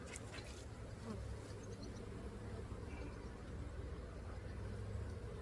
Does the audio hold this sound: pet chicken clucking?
no